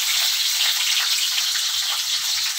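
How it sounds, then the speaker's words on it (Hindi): Cauliflower and potatoes fry in hot oil over a medium flame in an open pan, giving a steady, dense sizzle with crackling spatter that holds unbroken at even loudness throughout. "तेल गर्म हो चुका है फ्रेंड, गोभी आलू को फ्राई कर लेंगे।"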